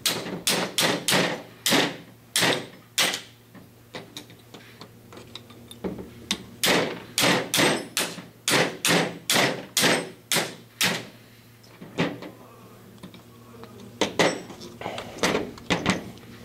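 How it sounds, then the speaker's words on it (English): Sharp, loud hammer taps knocking two pins out of a Madbull Dragonfire RIS rail on an airsoft rifle, struck in quick bursts of repeated blows with brief pauses between groups. "Just go ahead and knock those 2 pins out as well."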